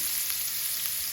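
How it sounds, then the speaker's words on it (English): Pancetta frying in a pan for an Italian tomato sauce, a steady close crackling sizzle with a bright hiss that holds evenly for about a second, no voices. "Fry the pancetta."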